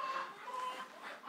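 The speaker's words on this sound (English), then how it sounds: "you'll also get to see Snowball, our chicken who thinks she's a duck" A backyard hen named Snowball, a chicken that acts like a duck, clucks softly near a rain-flooded coop and pen. The murmuring calls run steady and fairly quiet for over a second, with no talking over them.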